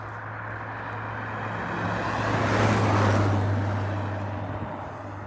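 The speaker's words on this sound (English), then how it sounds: "I will just wait for a few cars." A single car passes on a road beside a cottage garden on a frosty October day, rising as it approaches and fading away as a smooth swell of tyre and engine noise, fairly close, with no talking.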